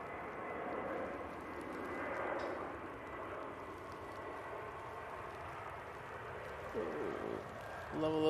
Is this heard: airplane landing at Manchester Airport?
yes